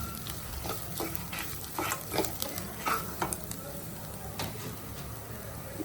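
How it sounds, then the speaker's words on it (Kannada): Onions stirred in a hot pan until brown for chutney served with paddu: a steady, soft sizzle of frying broken by repeated scraping strokes of the spoon, heard close up with no talking. "ಕಲರ್ ಇದು ಬ್ರೌನ್ ಕಲರ್ ಬರೋವರೆಗೆ ಸಣ್ಣೂರಿನಲ್ಲಿ ಆಡಿಸ್ಕೊಂಡ್ರಪ್ಪ ನೀವು, ಚೆನ್ನಾಗಿರುತ್ತೆ."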